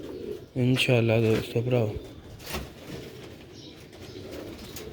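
Pigeons coo on a rooftop in Sialkot, with one loud, close, throaty warbling coo near the start, softer bird sounds afterward, and someone speaking briefly over them.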